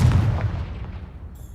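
In Hogwarts Legacy, a Confringo fire spell bursts as one heavy, close explosion with a deep boom that fades quickly into a rumbling tail.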